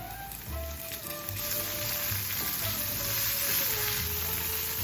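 Onions and tofu fry in a pan with a steady, close sizzle, a continuous hiss with faint stirring scrapes and occasional crackles, no talking.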